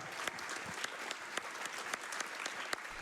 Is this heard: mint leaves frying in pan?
no